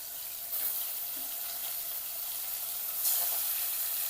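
Mutton pieces sizzle in fat and oil inside a pressure cooker, cooked as a dry Maharashtrian mutton sukka; a steady broadband hiss with brief louder surges as the meat hits the pan, no talking.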